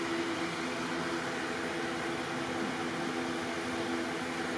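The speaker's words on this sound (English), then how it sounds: "I've got a fan blowing in there right now to kind of blow the" An electric fan blowing fumes out of a 2013 Ford Explorer interior, a steady, close whooshing drone with a low motor hum, even and unbroken throughout.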